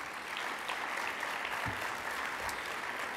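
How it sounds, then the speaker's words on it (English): Steady applause from a crowd at a community reception honoring Mayor Castro, dense and continuous clapping at moderate distance with a faint voice or two under it. "Let's give them a round of applause as well"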